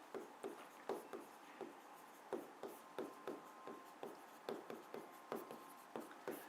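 Chalk or a marker strikes and scrapes on a board in quick, regular rhythmic strokes, close and faint, with a quiet voice in the background.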